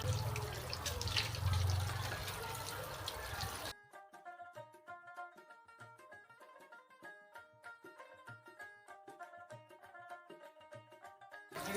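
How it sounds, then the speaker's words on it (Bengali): Cut fish rinsed in a kitchen: a few seconds of splashing, running water, then a quiet stretch of clinking and dripping sounds from a bowl or sink. "এবার আমি ধুয়ে নেবো ভালো করে মাছগুলো।"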